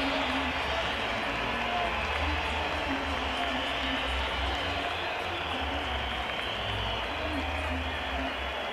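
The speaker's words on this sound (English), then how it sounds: "Crowd appreciating a great captain's knock from Richie Richardson." A cricket crowd at Kingston, Jamaica applauds Richie Richardson's half century against Australia in 1995, with dense, sustained clapping and a crowd roar throughout and a commentator's voice running over it.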